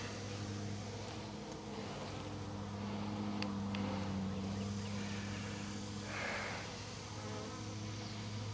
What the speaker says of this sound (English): Bees are in the air.